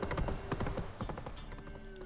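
Roach, the horse in The Witcher 3, gallops in a quick, close, rhythmic clip-clop of hooves, clear and unbroken for about two seconds.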